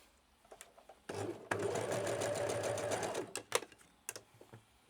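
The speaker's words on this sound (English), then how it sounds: "You just place your fabric in the middle, you fold it in half, and you start to stitch." A sewing machine runs in one steady burst of rapid stitching on fold over elastic for about two seconds, then stops, followed by a few soft clicks and handling noises.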